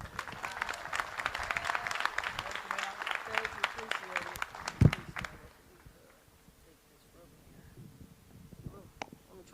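Audience applause welcomes a speaker at a ribbon-cutting ceremony for an apartment building, a steady burst of clapping for about five seconds that cuts off sharply and leaves quiet room noise.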